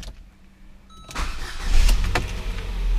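A Ford Figo's 1.4 Duratec engine cranks with a brief whir, then catches and roars into a steady idle.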